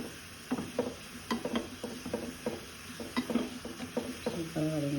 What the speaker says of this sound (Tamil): இதில் பெருங்காயம், வெங்காயம், பூண்டு, கருவேப்பிலை நல்லா வதங்குது பாருங்கள்.